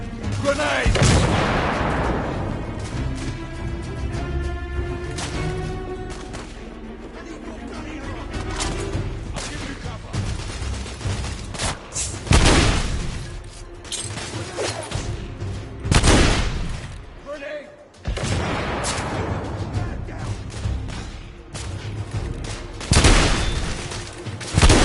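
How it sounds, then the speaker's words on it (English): Grenade blasts and volleys of gunfire from The Order: 1886 hit in several heavy bursts, with booming impacts and crackling shots spread between calmer stretches where a voice and background music come through. "Damn! Grenade!"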